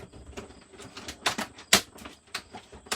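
Sharp tearing and ripping bursts as glued packaging is hacked apart by hand, several uneven rips spaced across a few seconds, close and moderately loud, with no talk over them.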